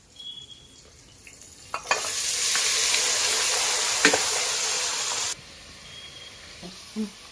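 Garlic and onion drop into hot oil with a sudden loud, steady hiss of frying that holds for about three and a half seconds, then cuts off, leaving a quiet pan with a couple of soft utensil knocks.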